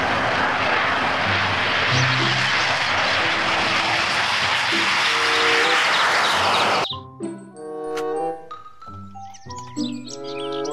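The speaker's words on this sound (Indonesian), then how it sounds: "Pesawat jet tempur." A loud, steady roaring jet whoosh with a whining tone fills most of the clip, then cuts off abruptly, leaving quieter chirpy electronic tones and clicks.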